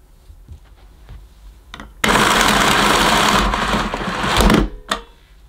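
A Miele Automatic S240i Air Clean vacuum cleaner switches on abruptly with a loud, steady broadband roar, holds for under three seconds, swells slightly, then cuts off, leaving quiet background.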